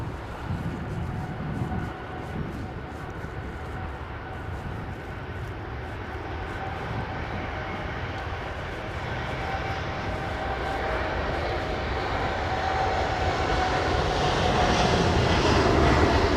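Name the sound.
Saudi Arabian Airlines airliner at London Heathrow Airport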